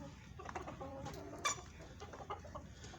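Golden Misri Australorp cross hens clucking close by, a few short overlapping clucks over faint farmyard background.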